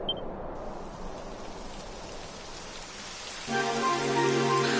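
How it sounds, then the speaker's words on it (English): Rain in the Dragon Quest XI video game, a steady hiss of falling drops that grows heavier toward the end, where a sustained musical tone joins it. "It would have to go and start raining, wouldn't it?"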